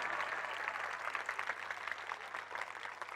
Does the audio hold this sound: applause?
yes